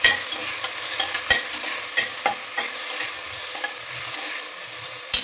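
Onion and green chili sauté in a pan for vegetable biryani, a close, steady sizzle broken by repeated scrapes and clinks of a spoon stirring against the pan.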